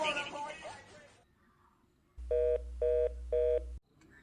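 A phone call rings out after dialing: three evenly spaced electronic ringback tones sound loud and clear after a short burst of voice and a quiet pause.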